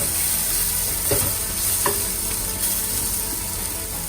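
Onion and cabbage fry in a pan, a loud, close, continuous sizzle with a couple of spatula scrapes as the vegetables are stirred.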